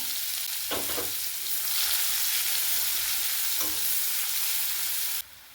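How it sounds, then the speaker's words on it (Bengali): Chopped onions frying in mustard oil with nigella seeds, a steady loud sizzle throughout with a couple of brief stirring scrapes, then the hiss drops lower near the end. "পেঁয়াজ কুচি দিয়ে ভালো করে ভেজে নেবো পেঁয়াজ কুচিটা।"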